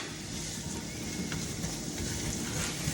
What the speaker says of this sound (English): we're going to go in with our onions and saute them until they're tender and a little translucent